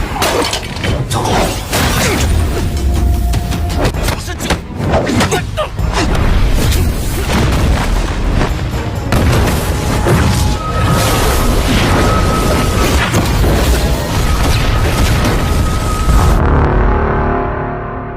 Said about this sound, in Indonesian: tiba-tiba terdengar kembang api yang menandakan akan datangnya tamu terhormat, yaitu Ketua Sekte Telapak Besi Qian Ren.